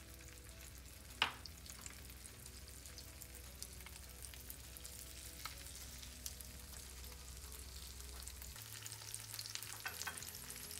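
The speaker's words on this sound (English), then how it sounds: "And there is the sizzle." Courgette fritters frying in hot rapeseed oil, giving a steady, soft crackling sizzle with faint pops throughout, close and fairly quiet, with no one speaking.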